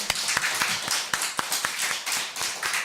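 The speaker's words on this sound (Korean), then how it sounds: "하나님께 우리 영광의 박수 한번 먼저 올려드릴까요?" Church congregation clapping together in a steady, fairly loud run of sharp claps filling the room, with no talking over it.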